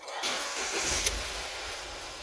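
A Ford Fiesta engine with a P2187 fault code cranks and catches, then settles into a steady, fairly quiet idle close by, with a brief click around the start.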